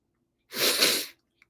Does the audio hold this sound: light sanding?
no